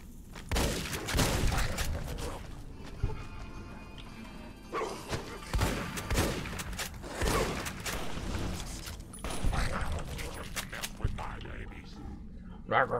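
Shotgun blasts ring out during combat in the modded video game Fallout: New Vegas, several sharp booming shots scattered among thuds and crashes, with someone talking over much of the action.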